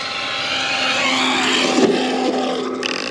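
A liquid-cooled RC car races past close by, its high-pitched electric motor whine swelling to a peak mid-pass and then trailing off, loud against faint outdoor background.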